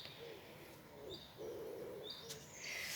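Birds sing in a local park, soft repeated coos and chirps rising at intervals over a quiet, steady outdoor background, faint and fairly distant with no talking.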